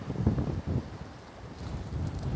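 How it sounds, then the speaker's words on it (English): Gusty storm wind battering a handheld microphone outdoors, low rumbling bursts that rise and fall with no talk over them. "Sorry for the shaking, it's just windy."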